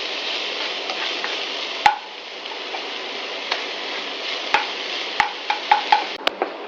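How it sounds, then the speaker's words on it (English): Onions with paste frying over medium heat for a cauliflower and green pea curry, a steady close sizzle with scattered sharp pops and spoon clicks, no talk. "we will fry this in medium heat till the onions turn golden brown"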